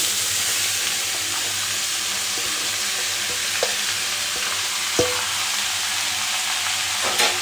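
Chopped bottle gourd and green chillies hiss and sizzle in hot oil in a home kitchen, a loud, continuous frying roar broken by a few sharp clinks of a stirring utensil against the pan.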